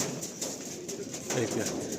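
Pigeons in an old loft coo softly in a steady low murmur, with faint wing rustles and scattered chirps, quiet and close.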